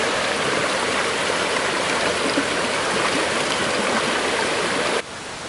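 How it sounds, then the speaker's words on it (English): A cold river streams steadily past where feet are dipped in the water, a constant loud rushing wash that drops suddenly quieter near the end. "Actually got our feet in the river."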